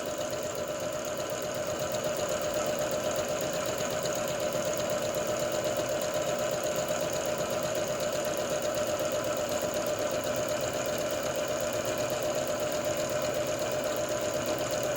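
A sewing machine hums and rattles steadily for the whole stretch, a fast mechanical chatter close by as it stitches crochet soles.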